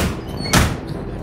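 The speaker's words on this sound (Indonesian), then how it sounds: "Akhirnya di sini Dini tersadar dan membukakan pintu untuk teman-temannya" A door opens with a single brief, close burst of sliding and rattling over a steady background hum, with no one speaking.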